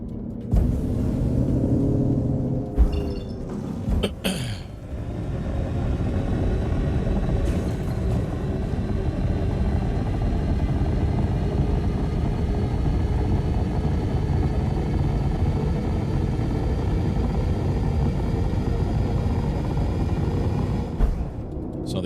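F-7A spacecraft in a space game, a steady loud engine rumble with a low drone that holds throughout, with a few brief louder surges near the start.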